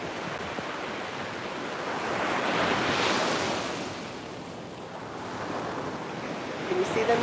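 Ocean surf rolls in a continuous wash with wind noise, swelling to a louder crest midway before easing back. No voices are heard.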